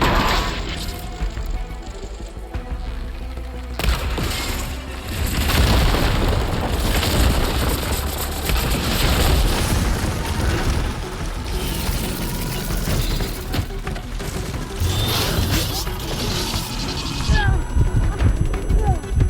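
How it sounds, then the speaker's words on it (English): Heavy booming impacts and crashes from ballista shots fired in the video game Horizon Forbidden West, with loud dense blasts and rumbling debris running almost continuously through a busy battle mix. "Hopefully the Denard can fire a few shots from that ballista."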